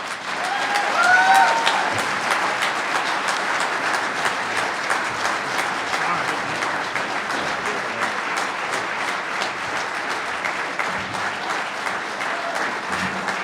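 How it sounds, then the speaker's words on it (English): An audience at a championship awards banquet applauds steadily, a dense wash of clapping that swells slightly at the start and then holds level throughout. "If that man don't deserve a round of applause for doing what he done"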